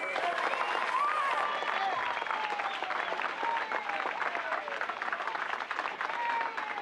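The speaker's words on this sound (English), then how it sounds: "put together a big round of applause for Melvin Van" A crowd gives a big round of applause for Melvin Van Peebles, thick sustained clapping with voices calling out over it.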